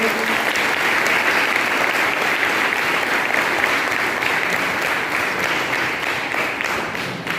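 Loud, sustained applause from a school audience at a New Year celebration at a Jawahar Navodaya Vidyalaya, honouring the guiding teachers. Dense, even clapping fills the whole stretch without a break.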